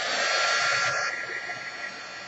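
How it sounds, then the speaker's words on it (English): A small handheld heat embossing tool blows hot air steadily over glitter paper, a loud continuous hairdryer-like whoosh close to the mic that eases slightly in pitch and level partway through. "we want to heat emboss this. So let me get my little heat tool out here"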